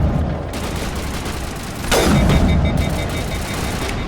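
Mass Effect turret gunfire, a steady dense rattle of game combat that swells into a louder sustained burst midway, with mechanical tones underneath.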